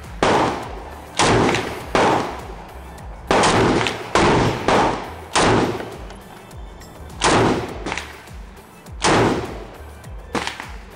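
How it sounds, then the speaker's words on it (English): Norinco T97 Gen 2 rifle firing in roughly nine loud, sharp shots spaced about a second apart, each with a short echoing decay, no voices. "shooting this gun."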